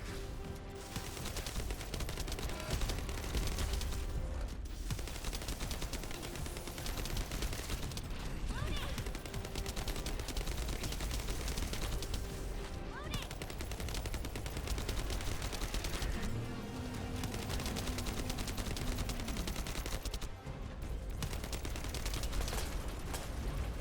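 Sustained rapid gunfire from the video game The First Descendant, dense bursts and fusillades running almost continuously at high loudness, with brief gaps and a voice speaking over the shooting.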